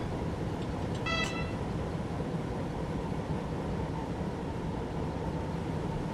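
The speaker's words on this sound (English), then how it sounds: "Honk the horn." Horn of a BR648 diesel railcar in Train Simulator 2016 on the Hamburg–Lübeck line gives one short toot over the steady rumble of the running train, with no talk.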